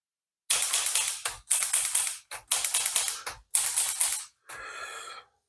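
An Olivetti Lettera 32 manual typewriter is typed on in quick, crisp bursts of clacking keystrokes, five clusters separated by brief pauses, close and clear against silence, with a final lighter, ringing stretch.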